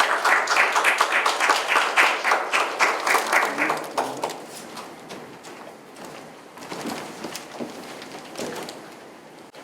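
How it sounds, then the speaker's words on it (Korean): An audience at a district residents' general meeting in Songdo 3-dong, Incheon, claps after an award presentation, a close burst of dense applause that thins into scattered claps and then fades. "다시 한번 큰 박수 부탁드리겠습니다."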